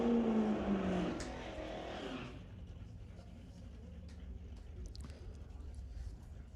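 A Camaro and a Mustang drag racing on a strip at an NHRA event: a loud engine scream rises in pitch at launch, then fades into a distant rumble while an announcer talks over it.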